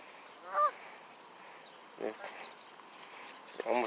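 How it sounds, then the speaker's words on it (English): Canada geese honk in a park, with three separate calls spread across a quiet outdoor background, each short and moderately close. "we got the Canadian geese over here"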